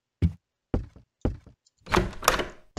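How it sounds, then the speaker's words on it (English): A door opens in a horror video game set in a castle, with three separate knocking thuds followed by a longer, louder burst of creaking and scraping as it swings open. No one speaks. "The door opened."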